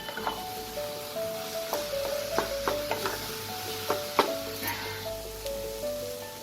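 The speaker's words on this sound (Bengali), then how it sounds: "এবার যতক্ষণ না কফিটা থেকে আমাদের জলটা পুরোপুরি শুকিয়ে যাচ্ছে ততক্ষণ আমি এটাকে নাড়াচাড়া করে নেব।" Cauliflower stuffing for gobi paratha is stirred in a frying pan, with soft scraping and knocks of a spoon over a light sizzle, spaced irregularly and close up.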